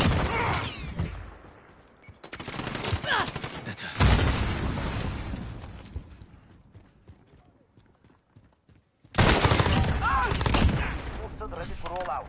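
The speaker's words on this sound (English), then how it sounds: "Taking fire!" Bursts of gunfire from the video game Call of Duty: Modern Warfare, loud rapid volleys that come and go in several clusters with quieter gaps between them.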